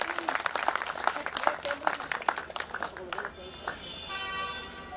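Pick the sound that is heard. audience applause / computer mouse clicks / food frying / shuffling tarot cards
audience applause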